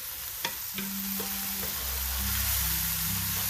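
Onions frying in a pan give a steady, close hiss of sizzling oil, with a couple of sharp utensil taps near the start and no talking.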